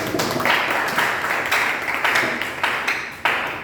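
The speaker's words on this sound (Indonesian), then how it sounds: "beri tepuk tangan bagi Tuhan" A church congregation applauds together during a sermon, a steady wash of many hands clapping that stays fairly loud and even throughout, with a few sharper claps standing out near the end.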